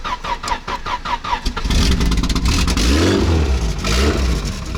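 A car engine running on LPG cranks and catches, then revs hard to a loud, sustained roar before settling, close up with no talk over it.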